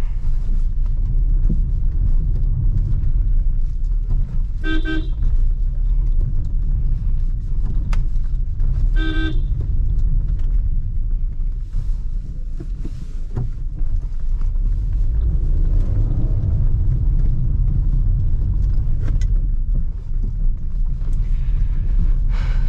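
A Maruti Suzuki Ciaz sedan rolls slowly through narrow village lanes, its engine a steady low rumble close up, with two brief horn beeps and occasional bumps.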